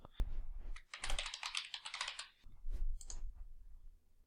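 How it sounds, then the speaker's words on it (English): Quick clattering keystrokes on a computer keyboard, a dense burst of typing followed by a few scattered key taps and clicks, close and moderately quiet. "I can simply type in the category name here and click the Add button to accomplish this."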